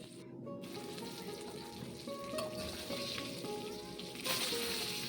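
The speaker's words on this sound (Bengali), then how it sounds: "মাছগুলো দেখুন এইভাবে ভেজে নিচ্ছি" Pieces of katla fish fry in hot oil, a continuous crackling sizzle with occasional sharper pops and brief scraping stirs, close and steady throughout.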